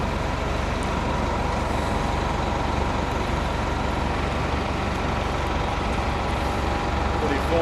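City buses rumble past near a church, a steady low diesel drone with a brief hiss of air brakes, heard close under occasional talk.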